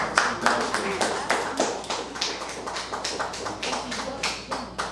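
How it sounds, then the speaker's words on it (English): Applause from a modest audience at a talk, with distinct individual hand claps audible in an uneven rhythm, moderately close and fairly quiet throughout. "one more round of applause"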